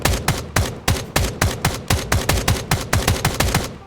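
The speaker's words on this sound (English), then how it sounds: "So you'll be able to fire the AK-47 almost like," AK-47 fire in the video game Escape from Duckov, a rapid burst of about fifteen loud, sharp shots in an even automatic rhythm, each with a short decaying tail, alone without talk.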